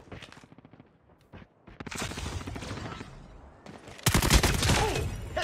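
Rapid bursts of SMG gunfire in the mobile shooter COD Mobile, sharp repeated cracks in clustered volleys, with a louder sustained burst near the end.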